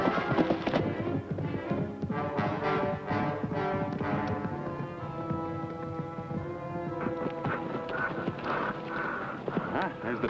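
Horse hooves clip-clop at a steady walking rhythm, with a newly shod left forefoot, mixed under a dense orchestral score in a western drama; no talk over it.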